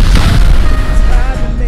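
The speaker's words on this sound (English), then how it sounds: "15 rockets into that corner." Rocket explosions pound a base in the Rust video game, a very loud, continuous barrage of deep booming blasts rolling one into the next with no pause.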